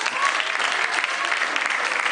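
A studio audience claps for a prize winner on a comedy show, with a brief burst of dense, loud applause from many hands.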